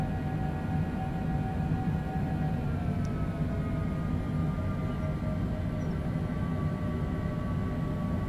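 A Cessna Longitude business jet taxis at Las Vegas airport in a flight simulator, a steady engine whine and low rumble with faint tonal hums held constant and close, with no voices.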